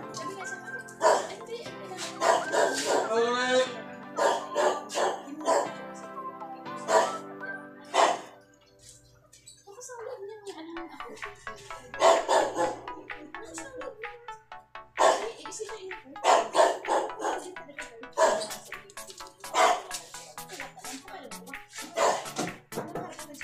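A dog barks and whimpers in short yips and bow-wows during a motorcycle oil change. It comes in bursts through steady conversation close by.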